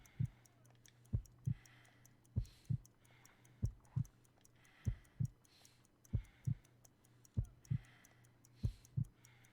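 Slow, steady heartbeat in the Sherlock Holmes: Crimes and Punishments game, a weak pulse around 50 beats per minute: paired low thumps repeating evenly over a faint background hum, with no talking.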